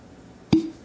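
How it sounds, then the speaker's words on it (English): A cork pops out of a bottle of Knob Creek 9 Year bourbon: one sharp, close pop with a brief ringing tail, set against quiet room tone. "Oh, nice pop to it."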